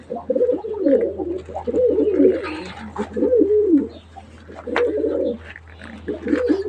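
Crested pigeons in a loft coo in repeated, rolling, throaty phrases, close and fairly loud, with short pauses between calls and a faint steady hum beneath.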